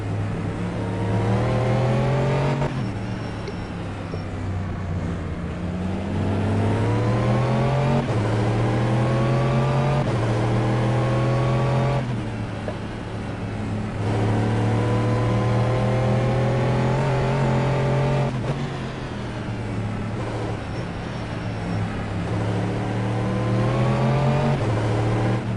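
Race cars in the Nürburgring 24-hour race pull away onto the Nordschleife, engines droning and repeatedly revving up through gears in rising sweeps, loud and continuous with no talk.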